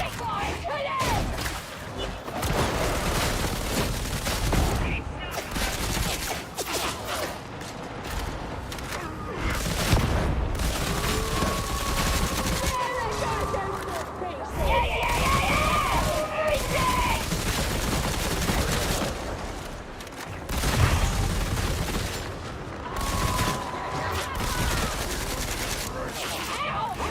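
Sustained bursts of gunfire from enemy gunners in a video game, dense and continuous under steady game noise, with a voice speaking over parts of it.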